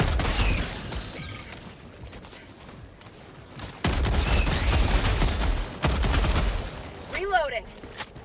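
A grenade bursting amid heavy gunfire in Helldivers 2, with rapid rattling shots, deep thumping booms and whistling projectile sounds, loud and close, with a few bursts of mechanical clatter near the end.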